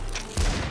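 A single heavy gunshot lands mid-burst in the VR shooter Population: One, a short booming report rising over a steady low background hum before fading out.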